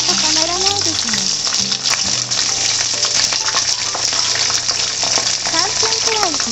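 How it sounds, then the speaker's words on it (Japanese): Okra shallow-fries in oil heated to about 180 degrees, giving a loud continuous sizzle and crackle up close, with stirring or turning noises on top. "揚げてる音たまらないですね。"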